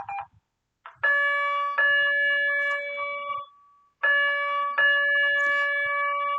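A loud bell-like alarm rings in two long bursts, each a sustained bright tone with a short pause between them.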